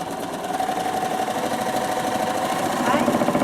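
A sewing machine runs steadily on a table with a rapid, shuddery mechanical chatter, loud and close, growing slightly louder toward the end.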